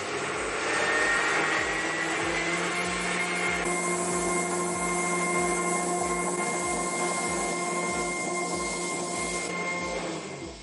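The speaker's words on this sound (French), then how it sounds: "j'ai un fouet en pièces jointes et je vais le mettre à pleine vitesse" Stand mixer with whisk attachment beating eggs and sugar at full speed, a loud steady whirring motor drone with a rapid rhythmic low thumping from the whisk, sustained throughout.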